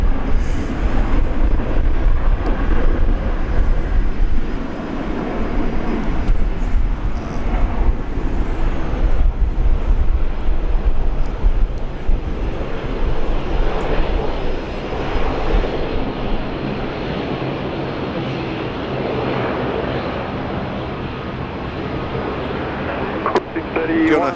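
A jet airliner taxis at Brisbane International Airport, its engines a broad steady roar and whine heard from a distance with wind buffeting the microphone and voices talking over it.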